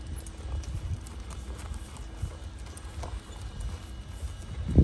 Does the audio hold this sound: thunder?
no